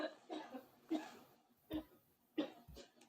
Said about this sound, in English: Who the fuck's that woman coughing in the background?